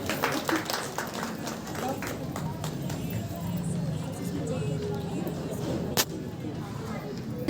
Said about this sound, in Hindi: जोरदार तालियों से स्वागत है उनका।